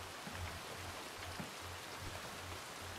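In Red Dead Redemption played through RedM, rain falls as a steady, even hiss, with a faint low rhythmic hum underneath.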